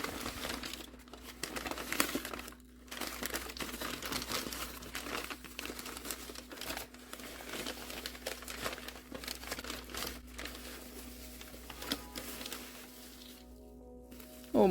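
Plastic wrapping crinkles and rustles steadily as a Blythe doll head is unwrapped up close, with soft tearing and crumpling throughout and brief pauses.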